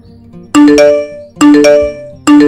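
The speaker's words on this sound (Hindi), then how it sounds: "देखो यहां पे नोटिफिकेशन आ चुका है।" An order notification from a restaurant kitchen display system app chimes loudly three times in close succession, each a bright multi-tone ding ringing out over near silence.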